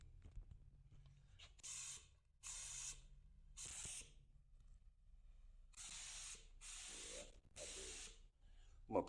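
Paint spray gun spraying glitter and pearl paint for a golf cart, releasing repeated bursts of loud hissing air, five or six trigger pulls about a second long separated by short pauses.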